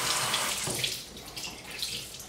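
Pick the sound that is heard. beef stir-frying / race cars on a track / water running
water running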